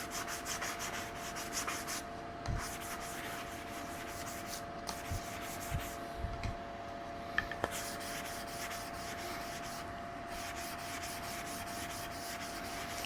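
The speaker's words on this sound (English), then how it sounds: "All I got to do is wipe this down again with the sanding sponge." Soft, steady sanding-sponge strokes on a sapwood axe handle, quiet and close, with a few faint knocks and no talking.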